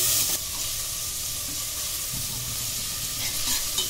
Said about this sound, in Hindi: अब हम इसमें डालेंगे ये कटा हुआ प्याज जो हमने एक लिया है। आप किसी भी चीज की क्वांटिटी कम ज्यादा कर सकते हैं। इसको हम अच्छे से चलाएंगे।